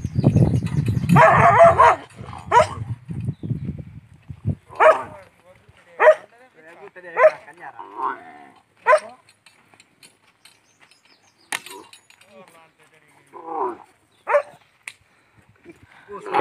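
A dog barks at a rural farm where a camel pulls a plough: several sharp, separate barks, spaced unevenly and fairly close, follow someone talking at the start, with short voice fragments between them.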